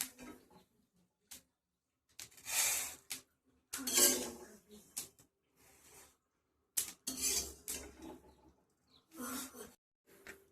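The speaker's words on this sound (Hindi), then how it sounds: "अब इसे एक बर्तन में निकाल लेंगे।" Roasted flaxseed is scraped from a kadhai into a pot, with rasping scoops and clattering utensils in irregular bursts separated by brief quiet gaps, close up.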